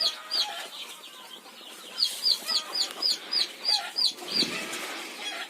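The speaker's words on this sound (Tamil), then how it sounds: "அப்பயும் ஒன்று ரெண்டு கோழி வந்துருச்சு" Chickens on a poultry farm cluck in a quick repeated series of short calls, fairly close, over a soft rustling farmyard background.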